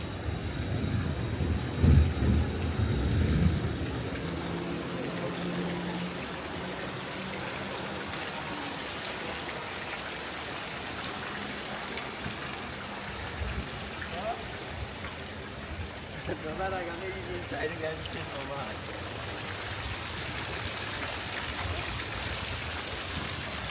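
A fountain in Augsburg's old town runs with a steady, broad splashing hiss that carries on throughout, with a louder, busier start.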